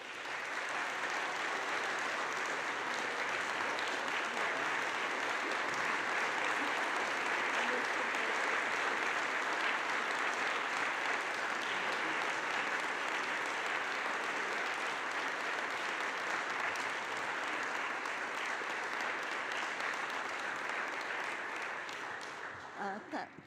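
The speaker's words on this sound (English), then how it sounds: "Please, let's give her a big applause" Audience applause at a 95th birthday celebration for Rev James Lawson: a long, dense roar of clapping from a large crowd, steady and fairly loud, tapering off at the very end.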